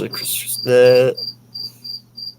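Crickets chirp in short, evenly spaced bursts after a brief harsh tonal sound at the start, moderately loud and with no talk.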